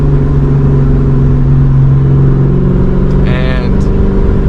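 A 2004 Ford Mustang GT V8 with a Borla S-Type exhaust rumbles steadily and loudly at a low pitch, with a brief rising rev about three seconds in, while someone talks over it throughout.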